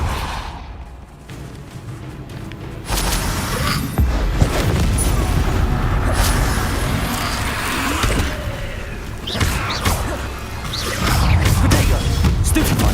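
Spell-casting combat in Hogwarts Legacy, including the Depulso force spell: loud bursts, booms and crashing impacts over continuous game sound effects.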